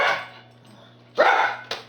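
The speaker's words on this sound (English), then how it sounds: "This dog's something crazy." A dog barks twice outdoors, a sharp close bark followed half a second later by a shorter one, over a faint steady hum with no one speaking.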